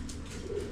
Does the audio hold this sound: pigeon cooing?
yes